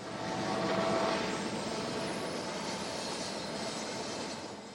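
A long CPKC freight stack train rumbles past on the Laggan Subdivision near Lake Louise, a steady, broad roar of wheels and cars on the rails, constant and fairly distant.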